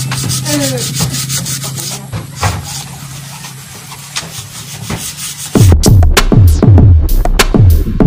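Rhythmic rasping strokes of sandpaper rubbing on a Honda Beat FI scooter's panels before repainting, close and loud, with a quick run of sharper scrubbing strokes toward the end.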